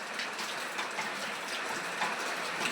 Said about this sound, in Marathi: पाऊस चालू छान आहे